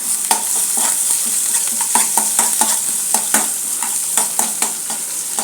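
Mustard seeds splutter in hot oil for a tempering, with a steady close sizzle punctuated by a rapid, irregular series of sharp popping crackles, with no talking over it.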